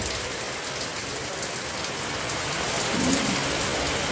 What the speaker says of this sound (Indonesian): Hujannya sangat deras sekali.